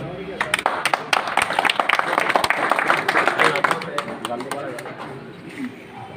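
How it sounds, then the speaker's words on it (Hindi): Audience clapping at a Rajasthan Congress party felicitation ceremony, a dense burst of many hands applauding steadily for several seconds with talk over it, then thinning toward the end. "बहुत बढ़िया ताली बजाओ।"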